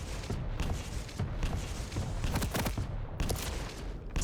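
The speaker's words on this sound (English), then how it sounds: "you missed every single rocket that you shot" Rapid weapon fire and explosions in a Quake Pro League match, dense repeated blasts and thuds filling the whole stretch, loud and close with no pause.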